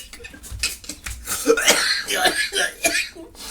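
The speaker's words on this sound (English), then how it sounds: "I coughed so hard I got dizzy" Harsh, repeated coughing and throat clearing during a casual podcast conversation, several bursts in a row, loud and close, mixed with voices.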